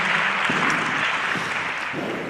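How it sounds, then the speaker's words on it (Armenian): Audience applause at Armenia's first national youth assembly in Yerevan, a sustained wash of many hands clapping in a hall, steady and fairly loud throughout. "եկեք մի հատ էլ ծափարենք"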